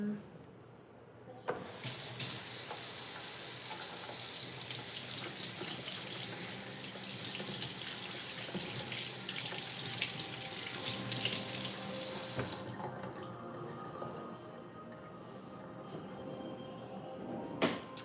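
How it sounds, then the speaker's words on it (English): Tap water runs steadily into a sink while hands are rinsed, a continuous close broadband hiss that softens near the end before stopping. "I'm gonna set that down, rinse my hands."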